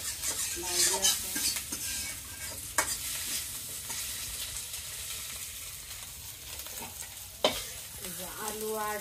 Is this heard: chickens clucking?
no